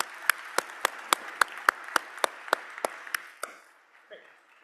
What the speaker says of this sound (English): let's have another big round of applause for our Attorney General, Keith Ellison.